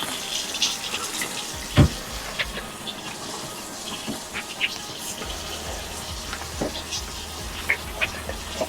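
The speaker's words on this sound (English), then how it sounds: "you want to run the water" A kitchen faucet runs steadily during a leak check under a sink, a soft continuous hiss of flowing water with a few splashy drips and clicks, close but fairly quiet, with no talking.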